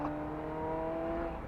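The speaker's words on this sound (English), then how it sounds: "that Ferrari yowl that is just so sonorously beautiful is what this car is" A Ferrari F355 Spider engine holds a steady, sonorous yowl with clear harmonic tones, close and moderately loud, heard alone without talk.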